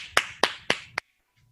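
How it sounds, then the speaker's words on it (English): Four sharp, evenly spaced claps at a startup pitch competition honoring the judges, close and distinct, then silence. "please, another round of applause"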